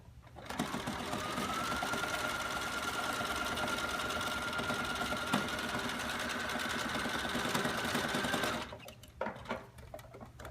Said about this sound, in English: I'm going to put her back in the machine and sew up that little area